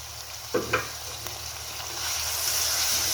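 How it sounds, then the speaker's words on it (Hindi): Chicken frying with onion, green chili, ginger, garlic and tomatoes, a steady close sizzle broken by two quick stirring scrapes early on, with the hiss swelling louder toward the end. "देखिए ये तमाम चीज़ें बहुत ही अच्छी तरह जो है ना वो भून रही हैं"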